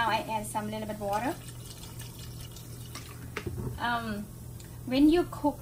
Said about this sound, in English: now I add some little bit water